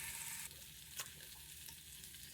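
Bacon sizzles in a pan in a home kitchen, a steady soft crackling hiss with faint pops and a brief clink.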